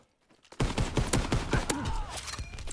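Rifle gunfire in a WWII video game: after a brief quiet start, a rapid string of loud, close, sharp shots cracks out in quick succession, with dense battle noise continuing between them.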